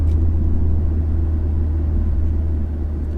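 Steady low engine rumble and road noise from a 2017 BMW 440i Gran Coupe being driven, heard from inside the cabin, loud and constant with no talking.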